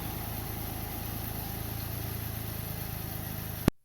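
A 2008 Mustang V6 engine with new head gaskets idles steadily at close range with a slightly uneven, pulsing rumble, then cuts off abruptly with a click.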